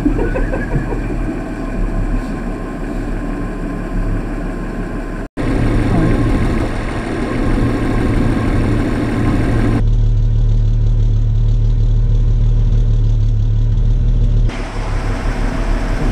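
Holden HZ Ute engine idling smoothly with steady low rumble, then revving up and settling back, close and loud throughout, with a brief cut partway.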